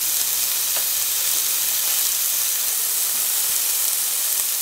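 Lemongrass beef skewers sizzle on a hot grill just after being flipped, a steady, close, bright hiss with faint crackles that holds evenly throughout, no voices.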